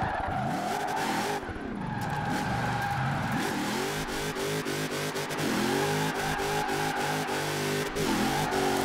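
Chris Forsberg's Formula Drift car in Forza Horizon 4 revving hard while drifting, the engine pitch sweeping up and down repeatedly alongside squealing tires, loud and continuous with no voices.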